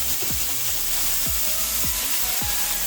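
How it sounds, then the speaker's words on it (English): Asparagus and mushrooms cooking lightly in butter in a skillet give a steady, close sizzle, with a few scraping strokes of a utensil across the pan. "we are going to cook, lightly cook, the asparagus and lightly cook these mushrooms"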